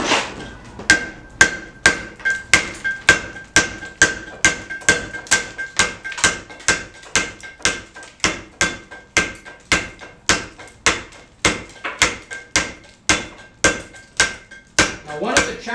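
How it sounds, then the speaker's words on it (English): Hammer and chisel striking stone during traditional hand carving with claw and flat chisels, a steady series of about thirty sharp, ringing metallic blows at close range, evenly spaced roughly two per second. "one of the challenges of clawing and flat chiseling is to not drive your tool in, to not drive it in deeper and deeper with each blow"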